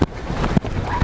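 Wind blowing outdoors, a loud close buffeting roar against the microphone with sharp gusts, no talking.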